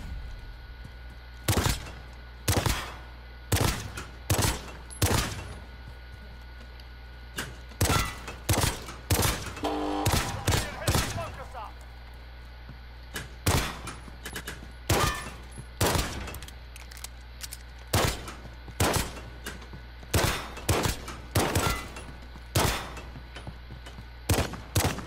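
Gunfire in a video game: sharp, loud single shots in irregular clusters and short rapid bursts, close and dry, with brief gaps between volleys and no talk.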